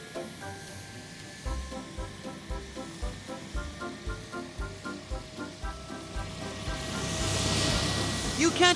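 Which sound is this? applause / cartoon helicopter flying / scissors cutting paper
cartoon helicopter flying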